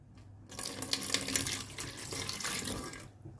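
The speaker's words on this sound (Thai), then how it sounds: "แล้วก็เทน้ำเติมน้ำลงไปนะคะ" Water runs from a tap into a pot holding coconut milk for a Thai dessert, a steady splashing gush that starts after a brief quiet moment and cuts off near the end.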